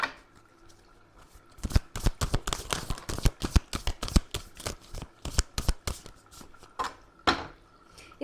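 Dense bursts of tarot cards being riffled and shuffled in a quiet room, clicking rapidly in clustered flurries with brief pauses, followed by a few softer slaps as cards are drawn and laid down.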